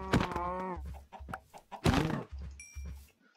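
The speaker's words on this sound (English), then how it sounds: "Okay, that's a lot of chickens." Chickens cluck repeatedly in the video game Minecraft, a cluster of short fowl calls with low thuds between them, followed by a couple of faint high beeps near the end.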